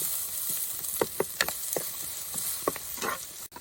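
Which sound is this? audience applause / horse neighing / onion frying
onion frying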